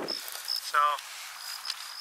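Faint high cricket chirps sound in short spaced bursts along a hillside walking trail in Chino Hills, California, thin and distant, with a brief voiced sound breaking in midway.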